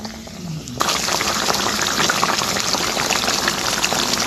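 Ginataang tulingan, tuna cooked in coconut milk, bubbles in a pot, a loud steady boil with thick popping bursts that comes in suddenly after a quieter start.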